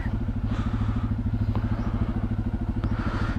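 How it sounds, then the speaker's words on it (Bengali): A motorcycle engine runs steadily up close on a road toward Ruma in the Bangladesh hills, its loud low throbbing pulse constant throughout with a few faint clicks and no speech. "আমার বাইক।"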